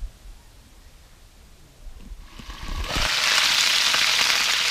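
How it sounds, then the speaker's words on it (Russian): Potatoes fry in an old Soviet frying pan, starting with quiet rustling and stirring, then swelling after a few seconds into a loud, steady sizzle. "вот мы пожарили картошку, да, на этой сковородке"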